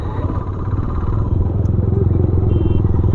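A motorcycle ridden by barefoot riders in town traffic during a festival, its engine running with a steady rapid putter close by and loud throughout.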